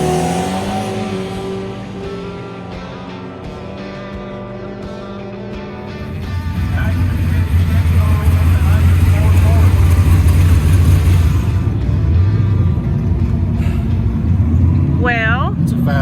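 A daily driver street car launches on a drag strip, its engine rising from a quieter stretch into a loud, sustained roar as it accelerates, with crowd talk and noise around it.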